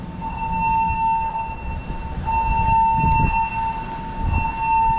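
A ship's steady alarm tone during a fire drill at port in Juneau, Alaska, droning continuously at a distance with faint low rumbling and harbor background, no voices.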